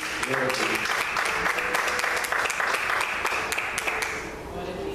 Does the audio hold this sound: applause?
yes